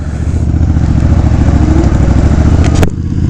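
A Suzuki Boulevard S83 1400cc motorcycle engine rumbles loud and close with a deep, even pulsing throb, cutting off abruptly near the end.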